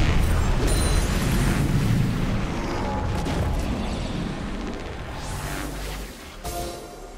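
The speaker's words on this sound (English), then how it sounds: "Blue team's turret has been destroyed." Turret being destroyed in League of Legends, a deep booming explosion with crumbling rumble that swells early and slowly fades, followed by a small late pop amid game effects.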